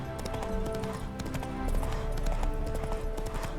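Horse hooves clip-clop in a steady trotting rhythm in The Witcher 3: Wild Hunt, close and clear, over a low background hum with faint layered game sounds.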